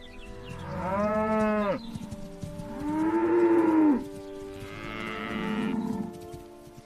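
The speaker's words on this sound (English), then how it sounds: "Cattle in the field." Cattle low in an open field with three long, loud moos in close succession. Each call is drawn out and resonant, with short pauses between them and no voices.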